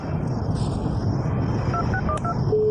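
A phone keypad sends a quick run of about five dialing beeps, each a short paired tone, over steady background hum.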